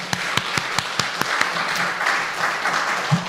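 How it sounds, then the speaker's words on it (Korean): A church congregation applauds at a relocation thanksgiving service in Phnom Penh, with sharp individual claps at first that quickly build into steady, fairly close applause filling the room. "우리 주님께 영광의 박수 한번 올리겠습니다."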